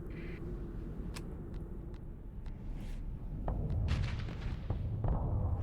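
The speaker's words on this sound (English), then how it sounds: "Those were definitely torpedoes." Torpedoes slam into a ship in the space game Starsector, a series of muffled distant booms and sharp impact cracks over a low rumbling background, swelling louder toward the end.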